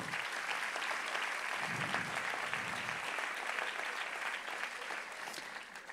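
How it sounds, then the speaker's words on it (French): Steady, fairly distant applause from a conference audience fills the hall throughout, with a brief murmur of voices partway through and a slight fade toward the end. "Je pense que vous pouvez applaudir tout ce monde-là bien fort."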